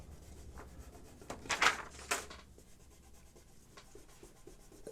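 A pencil eraser rubs out a drawing on paper, two short bursts of brisk scrubbing that stand out against a quiet room before fading to faint background hiss.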